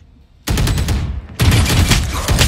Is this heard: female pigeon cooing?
no